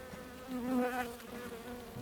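Honeybees buzz close by during an inspection of a brown hive, a wavering hum that rises in pitch and loudness midway, then settles, with no talk.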